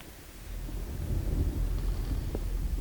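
Thunder rumbles low and steady in the Call of Cthulhu video game, a sustained storm roll with a faint rain-like hiss and no voices.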